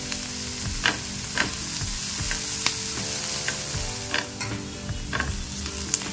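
Capsicum and onion fry in a pan for masala corn chaat, a loud steady sizzle punctuated by repeated spoon scrapes and taps against the pan, close up with no talking.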